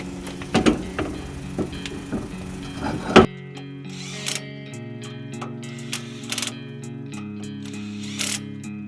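A ratchet tightens suspension bolts on a Nissan S14 240SX, giving short bursts of crisp, close clicking with pauses between strokes and no talking.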